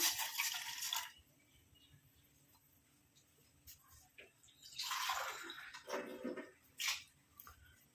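Water pours into a pot on a stove in two faint splashing bursts, first at the start and again a few seconds later, with softer trickles and drips between.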